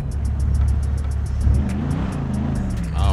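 Mercedes-Benz car engine in the video game GTA 5, a steady close engine drone with a rising rev and whirring, heard alone without talk.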